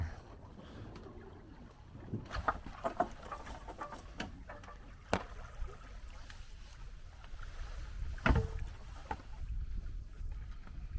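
A cruise boat moves through water with lapping and splashing, occasional sharper slaps against the hull, and a low wind-like rumble underneath.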